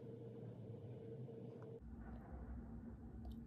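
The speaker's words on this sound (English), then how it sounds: "That sounded like thunder." Low, steady rumble resembling distant thunder, heard indoors while someone gets ready for a party, continuous across the moment with a shift in character partway through, no talk over it.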